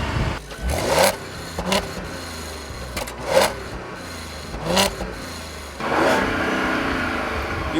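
A 2014 Audi SQ5 engine revving repeatedly against its rev limiter near 3,500 RPM, several short sharp rev bursts with gaps between them, the last one held longer, loud and close with no talk.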